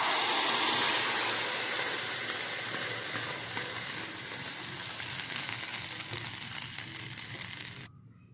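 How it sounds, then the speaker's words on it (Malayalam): Kannur-style buttermilk curry with raw plantain hits a hot frying pan with a loud sizzle that gradually fades over several seconds before stopping suddenly. "നമുക്ക് വറുത്തിട്ട ചട്ടിയിലേക്ക് കുറച്ച് കറി ഒഴിച്ച് കൊടുക്കാം."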